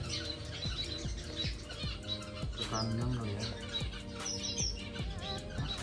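Male cutthroat finch calls among busy chirping of other small finches, close and fairly loud, with a voice speaking over the birds.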